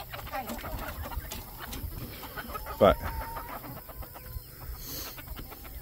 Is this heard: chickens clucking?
yes